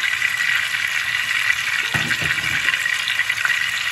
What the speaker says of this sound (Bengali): আলুটা ভাজা হয়ে যাচ্ছে।